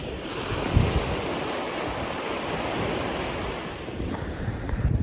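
Ocean surf washing onto a beach, a continuous roar of breaking waves mixed with strong wind buffeting the microphone, steady and fairly loud throughout with no voices.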